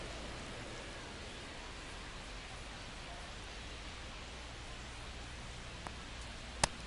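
Steady rain hisses as a soft, even wash of broadband noise over a Mariners at Giants baseball game, with one faint sharp tick near the end.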